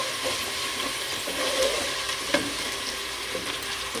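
Sliced onions frying in oil over a high flame, a close, bright crackling sizzle with bursts of spitting and light stirring scrapes, continuous and unaccompanied by speech.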